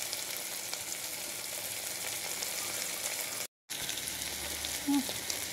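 Moong dal sizzles while frying in a pan, a steady close crackle that cuts out briefly for a moment before resuming.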